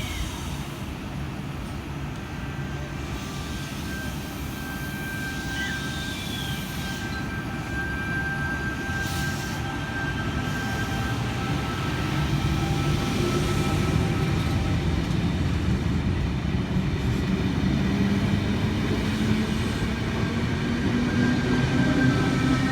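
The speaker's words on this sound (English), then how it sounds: "Lithgow service now departing platform 3." A Sydney Trains service pulls out of the platform at Penrith station, a continuous rumble and whine that slowly builds and grows louder as it moves off, with faint tonal squeals above and no speech.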